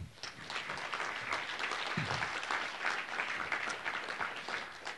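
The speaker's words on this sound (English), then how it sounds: "I would like everybody to give the judges a round of applause." Steady applause from an audience at a Rare Disease Day 2019 gene therapy event, honoring the judges; dense, even clapping holds for the full five seconds at moderate loudness.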